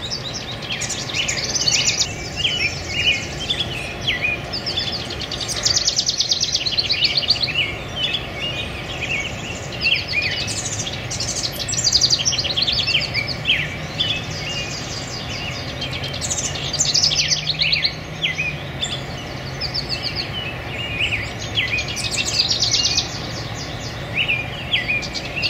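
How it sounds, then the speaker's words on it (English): A male house wren sings in a backyard, pouring out rapid bubbling, chattering song phrases again and again at close range, with other bird chirps and tweets mixed in and steady background noise throughout. "Male house wren."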